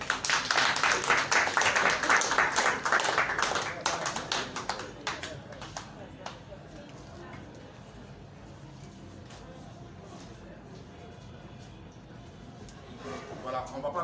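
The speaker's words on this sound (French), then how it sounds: "Après un second discours, on applaudit." Church congregation applauding during a service, a dense, loud burst of clapping for about four seconds that thins into scattered claps and then fades to a quiet room murmur, with a few claps returning at the end.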